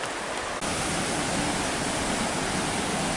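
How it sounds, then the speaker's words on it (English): A waterfall beside the Empire Builder train track in Glacier National Park roars as a dense, steady wash of white noise, loud and unbroken throughout with no voices. "We have this waterfall here."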